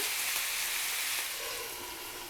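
Steady, close sizzling and crackling of food being fried in a pan, with the hiss easing slightly toward the end and no talk.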